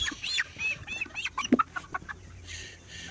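Colour-breed chickens at a poultry farm clucking and chirping in short, irregular calls, several birds close by over a quiet background, one sharper squawk standing out midway.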